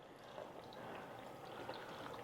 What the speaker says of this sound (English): And then we have 4 cups of water that I'm gonna pour in.